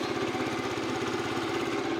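A scooter engine just started and running steadily, a close, even putter with a rapid, regular pulse and no voices.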